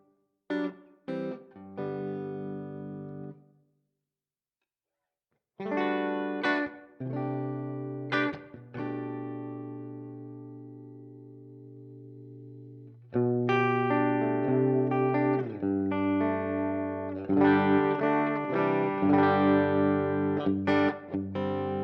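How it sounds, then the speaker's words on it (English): Fender Tweed Champ amp tone modeled on a Fractal FM9, guitar chords and single notes ringing through plate reverb, with bursts of strumming separated by a brief pause, then denser, louder playing toward the end. "So let's add in a bit of reverb. So should we go with a plate to start?"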